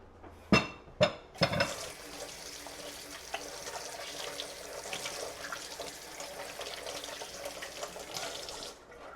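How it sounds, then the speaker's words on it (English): Hands rinsed under a running kitchen faucet after working sweet potato biscuit dough, a few splashy bursts at first, then a steady close hiss of flowing water that cuts off at the end. "let me go rinse off my hands"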